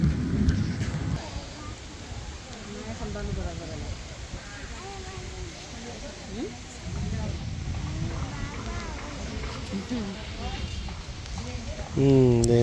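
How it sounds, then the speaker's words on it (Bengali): A Kalbaishakhi thunderstorm breaks over a village at dusk, with deep rumbles of thunder and a steady hiss of rain and wind, while a person talks over it at close range. "আকাশে ভালোই বজ্রপাত হচ্ছে"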